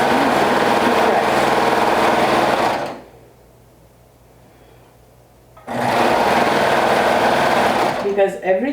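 A coverstitch machine hems a dress in two loud, close bursts of fast, even stitching separated by a quiet pause of about three seconds, and a voice begins speaking right at the end.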